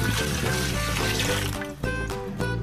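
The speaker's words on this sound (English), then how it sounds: "I put the water 2000 milliliters." Two liters of water being poured into a container while recovering gold from CPU scrap, a steady watery rush running under prominent background music for the whole short stretch.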